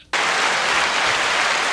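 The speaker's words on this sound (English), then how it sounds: "Oh, is that applause? That's applause." Sudden burst of applause bursts in from silence and holds steady, a dense hissing patter of many hands clapping, close and loud with no talk over it.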